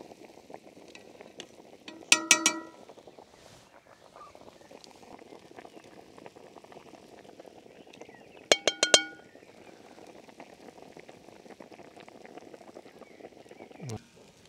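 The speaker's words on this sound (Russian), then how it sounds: "варево наше закипело" Crimean Tatar alyushke shorbasy soup boiling in a pot, a soft continuous bubbling with faint crackle, broken by two short bursts of metallic clinking and a brief thud near the end.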